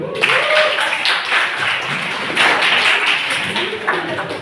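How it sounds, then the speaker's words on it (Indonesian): Group hand clapping in a classroom microteaching session, a dense, steady burst of many hands close by, filling the whole stretch with brief voices mixed in. "Tepuk tangan dulu."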